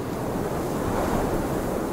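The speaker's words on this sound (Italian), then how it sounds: "che vento" Wind blowing across open water in Sons of the Forest, a broad, steady rushing roar like surf that fills the whole stretch at constant strength, with no talk over it.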